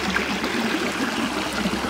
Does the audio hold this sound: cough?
no